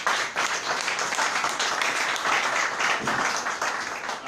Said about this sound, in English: Please, a round of applause for the panelists.